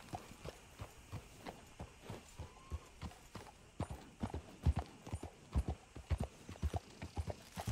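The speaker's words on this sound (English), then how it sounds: "I don't know if we should really be prancing around on our horse around here" Horse hooves clop at a steady walking rhythm in the western game Red Dead Redemption 2, a close, even beat of sharp thuds that keeps going throughout with no talking.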